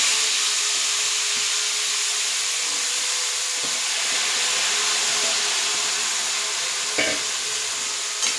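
Cowpea pods with red chili powder sizzling and frying in a pan, a steady close hiss throughout, broken by a couple of brief stirring knocks near the end.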